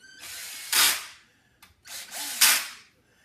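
A power tool gun whirs in two short bursts against a Losi MTXL RC truck clutch on the bench, each a loud close rising whine that fades, separated by a brief pause.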